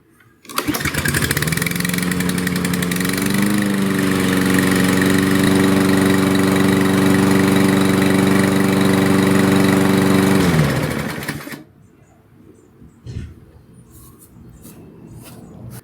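A Toro Recycler 22-inch lawn mower engine, just fitted with a new carburetor, starts and runs loudly and steadily for about ten seconds, then cuts out into quiet.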